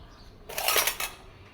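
A metal frying pan clatters briefly in a home kitchen alongside a gas stove, a short bright metallic rattle of about half a second, close and fairly loud, with no talking.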